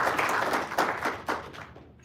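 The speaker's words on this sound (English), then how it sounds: "Give yourselves a round of applause." Audience applause in a crowded event room, a dense wash of clapping that swells and then fades out over a couple of seconds, with no talk on top.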